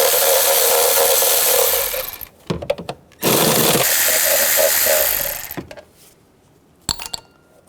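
Mechanical whirring from a 10mm socket tool removing bolts on a 2007–2011 Honda CR-V during valve cover work, two sustained loud bursts of about two seconds each, separated and followed by brief clicks and clanks close by.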